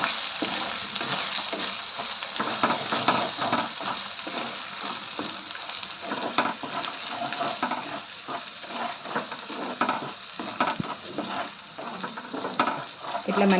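Spice masala with ground coriander fries in a hot pan while a spoon stirs it, a steady close sizzle with scraping and clattering throughout and no pause.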